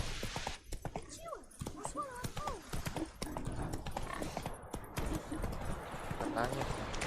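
Horse hooves pound in a fast, steady gallop in The Witcher 3: Wild Hunt, close and prominent throughout, while voices talk over the rhythmic hoofbeats.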